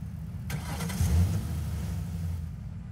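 A car engine in the Roblox video game cranks and catches, then settles into a steady running drone for a couple of seconds.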